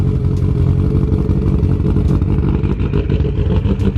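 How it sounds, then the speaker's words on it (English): A Subaru WRX engine runs at a steady, loud idle up close, with a continuous rough mechanical rumble and some light clatter all the way through. "Now we're back over here at the shop to start the Subaru and go ahead and drive his home"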